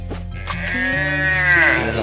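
A calf gives one drawn-out, wavering bleat close by, rising and falling in pitch over about a second, heard on a farm in rural Konkan with a low background hum.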